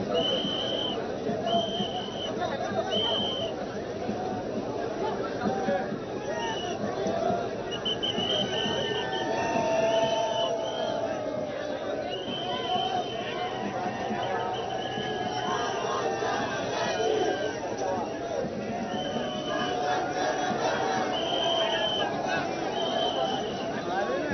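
A dense crowd fills the air at the Lalbaugcha Raja immersion at Girgaon Chowpatty in Mumbai. The murmur is continuous and fairly loud, with chatter and whistles cutting through repeatedly.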